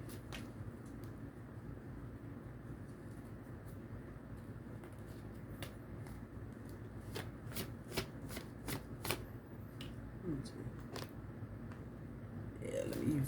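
Tarot cards are shuffled by hand in a quiet room: crisp riffling flicks come in uneven bursts, soft and close, and a brief rustle swells at the end.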